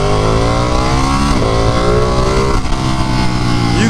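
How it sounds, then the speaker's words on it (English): A Ducati 959 Panigale twin-cylinder motorcycle revs hard close by, a loud continuous engine roar rising and falling in pitch with throttle blips, with no voices. "That is one of the best sounding engines that they've put in a motorcycle."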